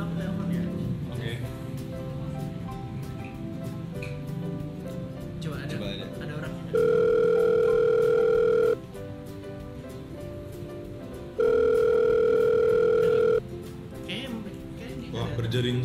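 A phone ringback tone sounds outdoors at a Jogja street food scene, coming as two loud, steady beeps of about two seconds each, separated by a pause, over busy crowd noise and background chatter.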